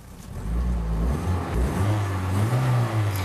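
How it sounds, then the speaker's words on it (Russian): A nearby car engine growls and revs, the low rumble rising and falling in pitch through the whole stretch with no talking. "Оп, завелась. Рычит громче, чем твоя? Рычит."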